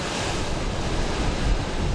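Ocean waves breaking on Garcey beach, Fuerteventura, where a shipwreck lies stranded in the surf; a steady, close roar of churning surf with wind, continuous and loud throughout.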